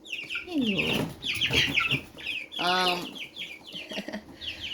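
Svarthöna chickens, a fully black breed, cluck and squawk nearby in a run of short bursts, with one louder drawn-out call in the middle and quieter clucks trailing off afterward.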